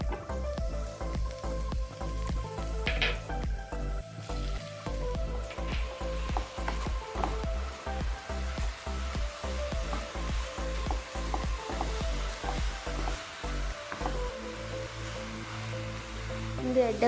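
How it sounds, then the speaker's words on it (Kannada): Carrots frying in ghee in a pan give a steady, soft sizzle with faint crackles and occasional stirring scrapes, close up and continuous throughout. "ನೆಯ್ ಪಾಡ್ದು ಕ್ಯಾರೆಟ್ನ ಫ್ರೈ ಮನ್ಪೊಡು"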